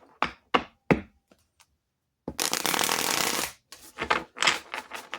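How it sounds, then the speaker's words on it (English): Cards are riffled and shuffled close by: a few crisp taps, then a long fluttering riffle followed by several shorter bursts. "Let me shuffle here."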